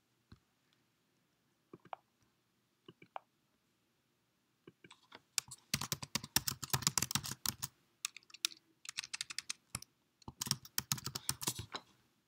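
Bursts of typing on a computer keyboard, rapid clicky keystrokes in two dense runs after a few scattered taps, close and fairly quiet with no talking.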